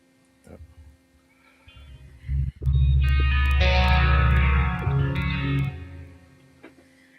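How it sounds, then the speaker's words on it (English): Electric guitar played through a custom-built effect patch on a Headrush unit: a few quiet notes, then loud, thick, distorted and chorused sustained chords with reverb that swell, hold for several seconds and then fade. "this is one effect that I built on the Headrush, and this is the sound that I get from this effect"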